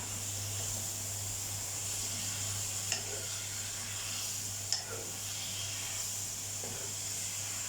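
Steady sizzling hiss of water spinach (morning glory) stir-frying in a hot wok, continuous and close, with a couple of brief clanks from a utensil.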